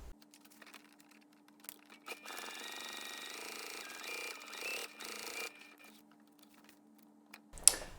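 A home sewing machine runs steadily as it stitches down a purse seam at a 3/8 inch allowance, the whirring hum lasting a few seconds before slowing and stopping, with fainter starts and stops around it.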